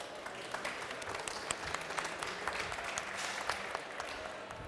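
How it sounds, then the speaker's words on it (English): Applause from a conference audience, a dense, steady patter of many hands clapping at moderate volume throughout. "A huge round of applause,"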